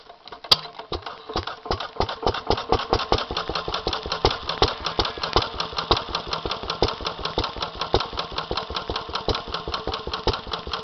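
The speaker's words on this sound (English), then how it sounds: "This is a Lister B, 5 horsepower at 650 RPM from 1942. Anyway, let's crank her up," A 1942 Lister B 5 hp stationary engine rated at 650 RPM starts up and settles into an even, rapid thumping beat, clear and close, alone without voices.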